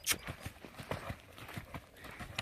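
A horse canters on a long line in a circle, its hoofbeats thudding in a steady three-beat rhythm on soft ground at moderate distance, with light breathing and no clear talk.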